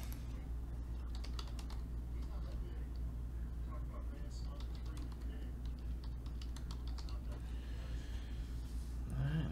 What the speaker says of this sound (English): Let me get my keyboard in my hand here.